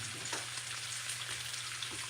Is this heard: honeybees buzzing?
no